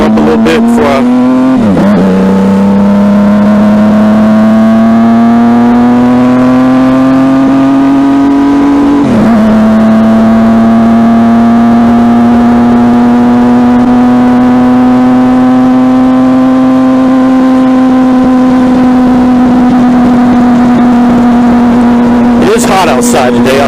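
A motorbike engine warming up outdoors, idling loud and close in a steady drone, with two blips of revving where the pitch jumps and then settles back, and a louder surge at the very end.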